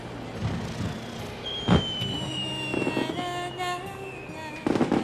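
Fireworks go off outside, with a sharp bang, whistling rising streaks and scattered crackling bursts heard at a moderate distance over a steady background rumble.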